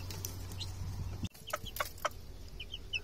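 Soft chicken clucks in short bursts, from a hen and chicks, over a low steady hum, with a brief dropout partway through, then more scattered clucking.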